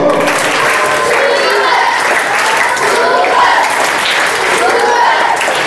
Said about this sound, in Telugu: Super claps go.